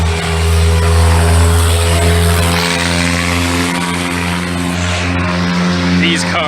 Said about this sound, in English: These cars, man, I'll tell you what. Sometimes I think they make them loud on purpose.